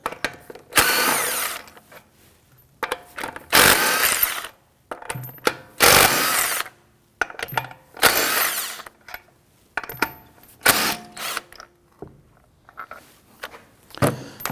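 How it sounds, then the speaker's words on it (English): Bursts from an impact wrench with a 19mm socket loosen the wheel lug studs on a 2001-2009 Volvo S60, several loud whirring runs of a second or two each, separated by short pauses and small metallic clinks. "Using our 19mm socket, we're going to loosen and remove the lug studs"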